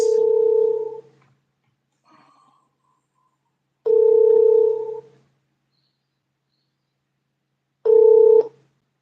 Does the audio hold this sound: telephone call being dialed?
yes